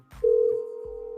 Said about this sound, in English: It's ringing. If you want to call, you're more than welcome.